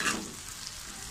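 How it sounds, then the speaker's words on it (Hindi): Okra frying on a tawa with chilli and cumin, a steady soft sizzle with faint stirring scrapes, close and unbroken, slightly louder at the start. "अच्छी तरह इनको भून लेंगे।"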